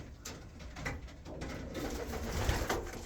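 Pigeons coo continuously in a backyard aviary, soft rolling calls overlapping from several birds amid a busy, close-up background.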